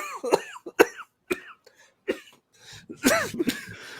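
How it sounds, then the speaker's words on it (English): Several sharp coughs in a row, close and loud, spaced irregularly with short pauses, ending in a harsher throat-clearing burst. "Made me start coughing."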